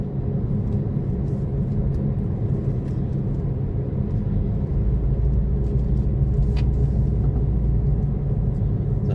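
Steady interior rumble of a car driving out of a small town, a continuous low road and engine drone with faint ticks and no talk.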